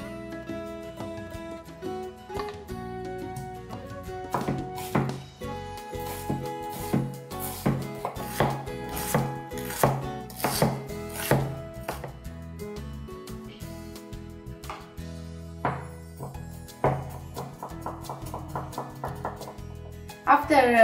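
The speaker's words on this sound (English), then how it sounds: "we are going to cut the onion into slices and we are going to finely chop the dill" A kitchen knife chops onion slices and finely chopped dill on a board, rapid rhythmic taps in bursts over about twenty seconds, up close and crisp, with a faster flurry near the end.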